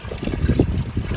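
Water pours steadily into the radiator of a 1934 International Harvester LA engine, a continuous close trickling splash with no talk.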